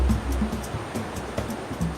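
Steady broadband roar of turbulent river rapids crashing over and around vast granite boulders, with small waterfalls, a continuous wash of rushing water with faint surging pulses, close and moderately loud, no voices.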